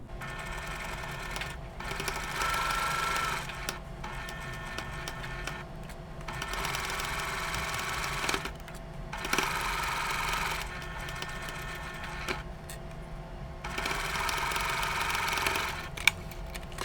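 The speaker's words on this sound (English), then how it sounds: "I'm going to sew with this side up so I can watch my intersections here" A sewing machine stitches quilt block fabric for a Christmas star block, running in several bursts of steady mechanical whirring separated by short pauses, close and fairly loud with no talk.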